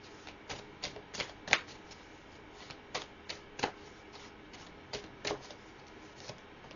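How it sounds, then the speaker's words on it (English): Tarot cards are handled and laid down on a surface, giving sparse, sharp snapping taps and soft slaps at irregular intervals, close and fairly quiet, with no talking. "let's add some more cards to this"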